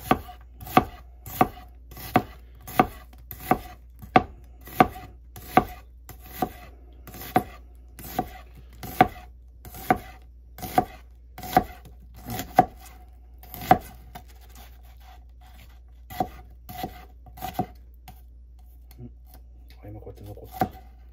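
Rapid, steady chopping of a heavy MenWithThePot cleaver on a board, sharp regular strikes for about fifteen seconds, then slower scattered chops.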